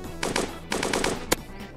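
Two quick bursts of machine-gun fire in Dusty Trip rattle out close together, followed by a single sharp crack.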